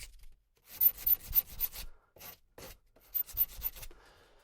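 A hand file and polishing work on the steel extractor hook of a Savage 87 .22 rifle: close, dry rasping strokes come in three short bursts with brief pauses between them, and no one speaks.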